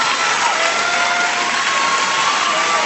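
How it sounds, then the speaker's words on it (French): A television studio audience applauding a singer on a talent show, dense continuous clapping and cheering that fills the room at a loud, steady level. "Prenez les applaudissements, profitez-en, le public se lève pour vous."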